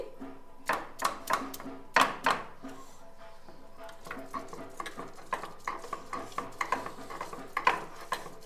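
Boiled young jackfruit being mashed in a bowl, with irregular clinks and knocks of a utensil against the dish, sharper at first and then lighter, softer taps, close and fairly quiet.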